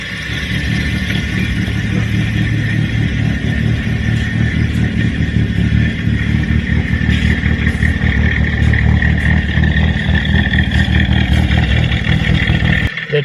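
A loud Tickford car engine runs steadily and close, rumbling continuously with a rattly, ticking edge throughout.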